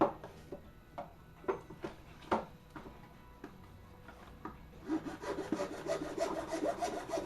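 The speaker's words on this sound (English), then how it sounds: "I'm going to cut this fat piece off the barrel instead of trying to jam this onto here" Hand saw cutting a thick piece off the barrel of a prop blaster, made of wood or plastic, that is fitted with a metal catch ring. Close, steady back-and-forth rasping strokes, sparse at first, then faster and louder toward the end, with no voices.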